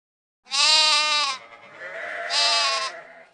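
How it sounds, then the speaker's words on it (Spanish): A sheep bleating in two drawn-out, quavering calls close to the ear, the first loud and the second trailing on in a wavering tone. "Borrego"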